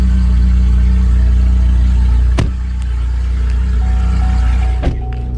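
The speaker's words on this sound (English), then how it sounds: "it's loud because the catalytic converter is disconnected and the front or the muffler is not hooked up at all" A 2013 GMC Terrain Denali AWD with a 3.6 engine runs loudly with the catalytic converter and muffler disconnected, a deep steady exhaust drone close by, broken by a couple of sharp clunks.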